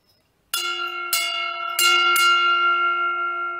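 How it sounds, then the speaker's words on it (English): A loud bell is struck four times in quick succession. Each strike rings on and blends into a sustained, shimmering tone, with no voices. "That is a loud sound. I almost thought there was no bell."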